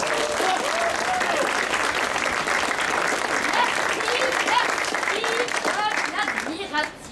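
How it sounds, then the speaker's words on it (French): An audience at a comedy show applauds a performer loudly and continuously, with cheers and whoops rising over the clapping, which tails off at the end. "on l'applaudit bien fort"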